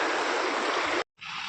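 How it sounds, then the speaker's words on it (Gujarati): A river flowing near a temple during rainy weather, a loud continuous rushing of water close by, broken by a brief silence just after one second. "એકદમ મસ્તની નદી હાલી રહી છે"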